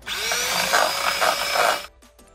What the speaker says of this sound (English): use electronic beater. First we will beat it up at low speed.